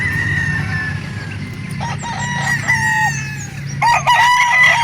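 A gamefowl rooster crows loudly at a chicken market in Calauan, Santo Tomas, with repeated crowing calls over a busy background murmur, other birds clucking nearby.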